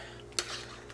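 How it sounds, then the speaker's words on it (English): A spoon stirs salt into a pot of Irish stew: one sharp clink against the pot, then a short soft scraping swirl, faint and close, with no voices. "Let's stir the salt into the stew."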